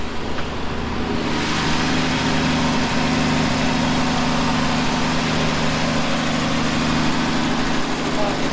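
A 1967 Plymouth four-door's engine idles steadily while warming up, a continuous low rumble with a steady hum, loud and close throughout with no pauses.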